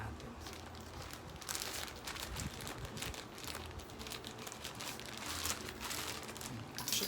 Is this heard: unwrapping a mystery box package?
yes